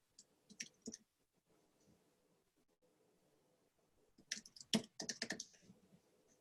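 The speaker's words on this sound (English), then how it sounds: "gonna do some typing here." Bursts of clicky keystrokes on a computer keyboard, a short flurry first, a quiet pause, then a faster, louder run of typing up close.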